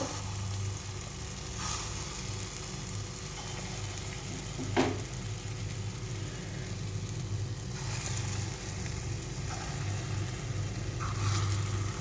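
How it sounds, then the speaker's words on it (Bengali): Small coconut and pea-lentil bora fritters sizzle steadily in hot oil, a continuous close frying hiss with a few faint clinks, and nobody speaks. "আমি এরকমভাবে এই ছোট ছোট করে সব বড়াগুলোকে ভেজে নেব।"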